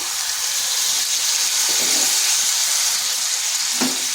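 Jackfruit (echor) curry sizzles in a pan as water is added, making a steady, loud frying hiss and bubbling with a couple of faint stirring knocks.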